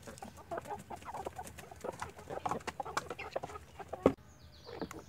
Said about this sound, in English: I haven't let the chickens out yet, and I'm sure hearing about it.